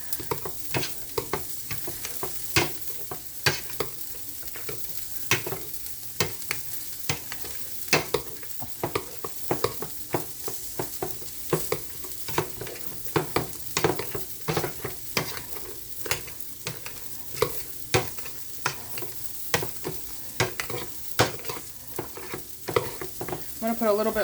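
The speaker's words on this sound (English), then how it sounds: "I prefer the old school hand masher" Potatoes being mashed by hand with an old-style hand masher, a long run of repeated squelching thumps and clacks against the pot in an uneven rhythm, close and fairly loud, with no talking.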